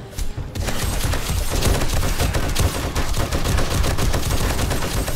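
Rapid automatic gunfire from a player's weapon during a Blood Moon horde fight in 7 Days to Die Alpha 21 (TongoMod), dense continuous bursts with booming impacts, loud and close throughout.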